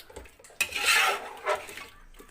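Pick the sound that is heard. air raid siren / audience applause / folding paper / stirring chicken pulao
stirring chicken pulao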